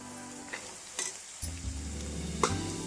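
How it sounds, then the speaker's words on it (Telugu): Sliced ridge gourd tipped into a pan of frying onions and green chillies for a ridge gourd curry with black-eyed peas, a few spatula clinks followed by a sudden louder sizzle that keeps crackling steadily. "ఇప్పుడు ఇందులోకి మనం బీరకాయలు వేసుకుందాం"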